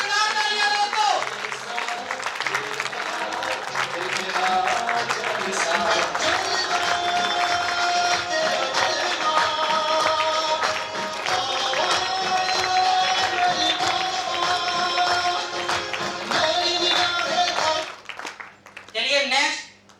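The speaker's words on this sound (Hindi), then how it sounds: "विजय कुमार सर के लिए एक जोरदार तालियां दोस्तों।" Seminar audience in Delhi claps steadily for about eighteen seconds, a dense patter of applause blended with music and voices, before it fades out and a short burst of sound follows.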